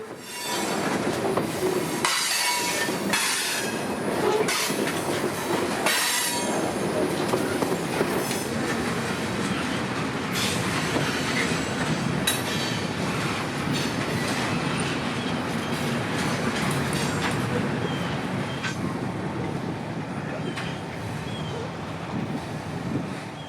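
Phosphate unit train cars roll past on an aging Bone Valley rail line on a hot, quiet day, wheels squealing and clattering steadily over the joints at moderate distance.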